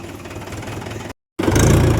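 A tractor engine idles with a steady low rumble, drops out abruptly to silence for a moment, and then returns louder and heavier.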